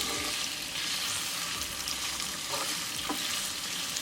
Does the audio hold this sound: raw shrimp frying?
yes